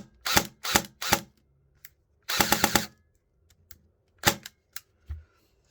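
An SRC M4 SR4 ST-Delta airsoft rifle dry-cycling on semi-auto, a series of sharp mechanical clacks, some single, some in quick bursts, with a rapid four-shot string in the middle, loud and close, no talking.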